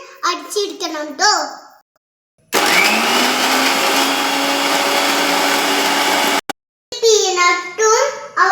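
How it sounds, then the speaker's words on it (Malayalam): A kitchen mixer grinder blends a Munch chocolate bar for a milkshake, a loud continuous whirring roar lasting about four seconds, with someone speaking just before and after it. "നമ്മൾ ഇനി മഞ്ച് അടിച്ചെടുക്കണം കേട്ടോ."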